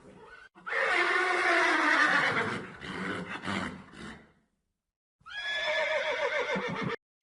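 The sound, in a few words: horse neighing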